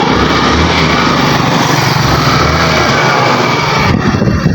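A GY6 motorcycle engine fitted with a battery-operated CDI runs loud and close, with a steady, buzzing high-revving drone that holds for the whole stretch without letting up.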